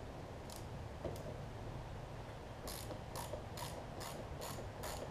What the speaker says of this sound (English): 7mm ratcheting wrench on the loosen setting.